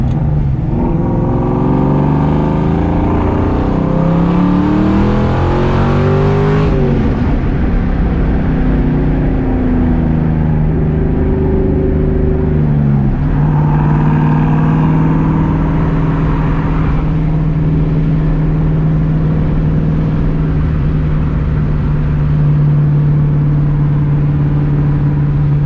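A 1994 Mustang Cobra with a new T5 manual transmission driving, its engine rising loud through the revs, dropping at each gear change, then settling into a steady droning cruise, close and continuous.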